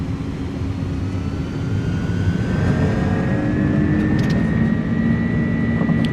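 Twin turbofan engines of an iniBuilds A300 airliner spooling up to takeoff power in a flight simulator, a loud, steady roar with a rising whine building over several seconds, heard alone without talk.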